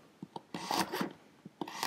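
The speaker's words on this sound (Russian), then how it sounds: "А морковку нарезаем монетками." Close, short rasping cuts as a knife slices carrot into rounds on a board, a few strokes with brief pauses.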